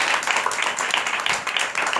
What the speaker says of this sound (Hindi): यीशु के जलाल के लिए जोरदार तालियां बजाएंगे।